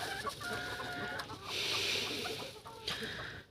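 Brooding hens, dwarf and ordinary breeds sitting on goose eggs, cluck softly in a repeated low rhythm, joined by a brief fluttery rustle, close by and fairly quiet.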